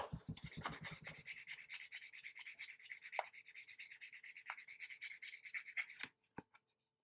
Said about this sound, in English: It's not cutting as aggressively as if it was a brand new sanding sponge.